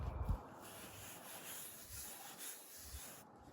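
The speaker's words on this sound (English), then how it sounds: "we can commence step 4, which is actually scrubbing the stone here" A headstone is scrubbed with a brush in circular motions, producing a faint, continuous bristly rubbing that swells and fades with each pass.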